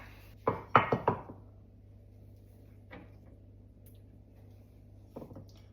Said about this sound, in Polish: idę sobie po naczynie żaroodporne